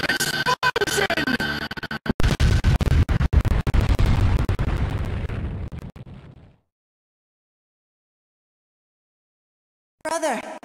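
A loud, dense explosion blast from a Naruto Storm fighting game fills the first six seconds with crackling, rumbling bursts, then cuts to silence before a brief new burst of sound near the end.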